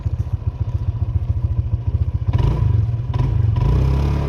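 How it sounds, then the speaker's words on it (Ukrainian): Honda PCX 150 maxi scooter with a tuned exhaust idling close by in a fast, even, thumping putter, then revving up into a louder, smoother roar before easing back. "приємний звук двигуна"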